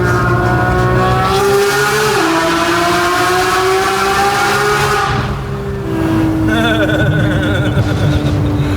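A Porsche GT3 engine revs hard and holds high pitch, rising and dropping through the gears, its exhaust booming and echoing inside a tunnel.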